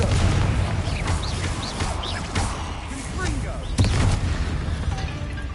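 A Confringo fire spell blasts in Hogwarts Legacy, rumbling explosive booms and crackling bursts over a dense game soundscape, with a sharper impact near the end.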